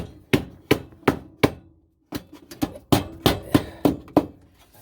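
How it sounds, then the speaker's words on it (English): Sharp hammer blows strike metal furnace flanges about a dozen times at a steady, uneven pace, with a short pause partway through, loud and close. "we're gonna hammer those back down a little bit"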